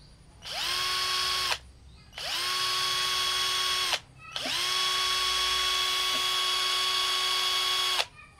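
A cordless drill powered through a 12 volt, 10 ampere adapter runs in three bursts, each spinning up to a steady high whine and then stopping, with short pauses between the runs and no talking.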